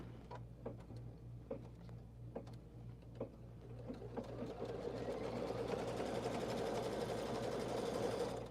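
Sewing machine running steadily while stitching a quilt, a fine continuous mechanical whir with a few faint ticks, building louder and denser over the last few seconds.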